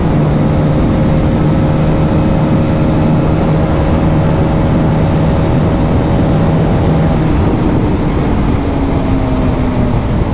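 A Hero Karizma XMR motorcycle running hard through the upper gears, with loud, continuous engine drone and heavy wind rush, the engine pitch holding steady and then dropping partway through as a shift happens.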